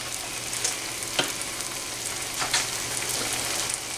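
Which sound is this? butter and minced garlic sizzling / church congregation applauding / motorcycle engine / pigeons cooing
butter and minced garlic sizzling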